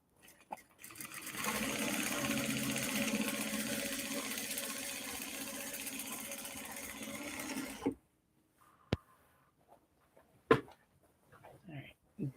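A sewing machine runs steadily for several seconds with a rapid mechanical whir, then stops abruptly, followed by a few faint clicks and handling sounds.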